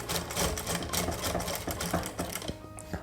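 A sewing machine stitching piping around the round neck of a blouse, a close, fast rhythmic needle clatter running steadily throughout and easing off near the end.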